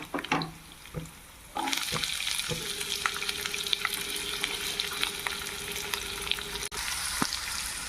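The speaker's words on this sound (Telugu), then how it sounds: "ఇవన్నీ బాగానే అయ్యాక ఆనియన్స్ వేసుకోవాలి." Onions and cashews fry in oil in a pan for poha upma, a steady close sizzle with a few clinks of a spoon stirring, briefly quiet at the start before the hiss swells.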